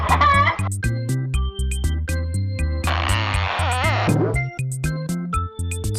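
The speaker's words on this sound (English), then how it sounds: "Chicken." A chicken clucks in short, repeated calls over a bouncy synthesized music bed that carries steady beats throughout.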